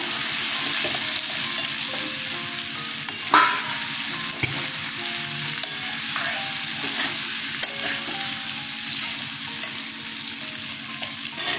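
Potatoes sizzle in a hot pan with ground coriander while a utensil stirs them, giving a steady frying hiss broken by occasional scraping knocks, loud and close, with no voices.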